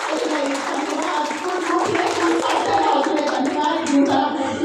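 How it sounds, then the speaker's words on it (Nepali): An audience at a Nepali Christian worship gathering applauds in welcome, a loud, continuous patter of many hands with murmuring voices and a child's speech mixed in underneath. "हजुरले तालीले स्वागत"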